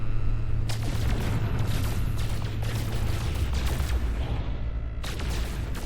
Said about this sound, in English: This photon cannon isn't really accurate.